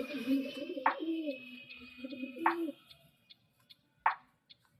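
A Calcutta-bloodline pigeon coos softly in low, rolling phrases, with a few sharp clicks and taps between calls nearby.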